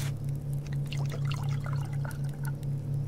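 Water poured onto plants in the survival video game Subsistence: a trickling, splashing pour with light drips over a steady low background hum, with no speech.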